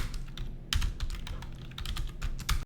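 Rapid typing on a computer keyboard while writing Python code, a close, steady patter of key clicks with a few heavier strokes and no talking.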